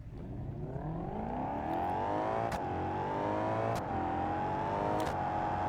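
Mercedes-Benz E63 S AMG engine in BeamNG pulling hard under acceleration, a loud continuous rising whine with brief shift dips as revs climb and settle, steady and close with no talking.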